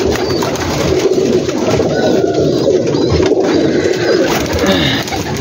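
Crowd of pigeons cooing together on a large rooftop loft with many birds, a dense, continuous murmur of overlapping coos and soft calls, close and steady throughout with no talking.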